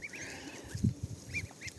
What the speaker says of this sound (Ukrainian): У мене є оце з моїх гусей, стільки гусенят.